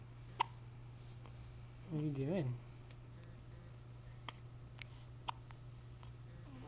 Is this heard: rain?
no